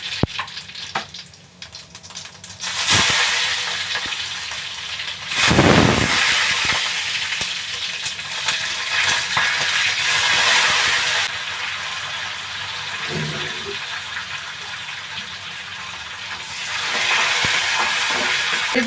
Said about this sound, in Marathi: तर आता तेल गरम झाले, गॅस कमी केलाय मी